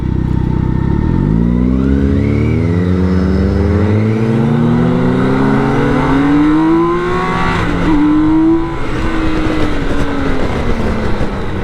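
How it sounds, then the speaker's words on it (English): Engine of a Mustang Advance trike revving hard nearby, pitch sweeping up through gear changes with a loud continuous roar and rising harmonics, steady and close throughout with no talk. "We got a trike. A Mustang Advance."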